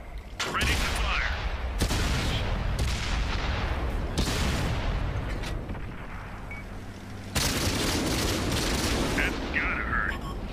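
Tank cannon firing in World of Tanks, several heavy booming shots spaced a few seconds apart over a constant engine-like rumble, with voices speaking between blasts.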